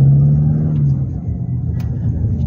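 A 2024 Toyota Fortuner 2.8 diesel SUV rumbles close by, a loud low engine drone that fades slightly as it moves past.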